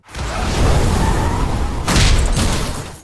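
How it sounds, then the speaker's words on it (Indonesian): A car bomb goes off in a gangster action film, a loud, dense blast of rushing noise with a second heavy burst and whoosh partway through, filling about three seconds. "Ledakan bom itu seketika membuat situasi menjadi kacau."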